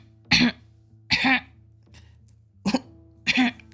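A woman clears her throat pointedly, four short rough bursts spaced about a second apart, close and alone.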